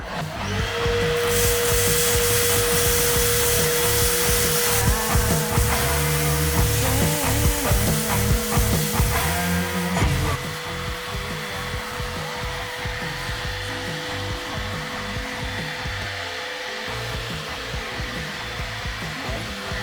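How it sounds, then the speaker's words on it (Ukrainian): A Bosch GAS 18V-1 cordless vacuum runs close and loud with a steady high whine while sucking up piles of debris. Its tone drops slightly partway through, and gritty rattling mixes into the drone. "Так, і тепер пробуємо, скільки Бош в себе затягне."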